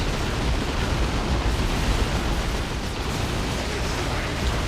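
Basilisk artillery barrage in a tabletop-style strategy video game, a dense, continuous rumble of overlapping explosions and booms that stays loud and steady throughout, with no clear gaps between impacts.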